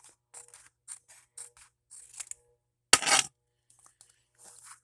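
Scissors cut craft material for a file folder journal in a series of faint, crisp snips up close, with one louder rustling crunch in the middle and quiet gaps between cuts.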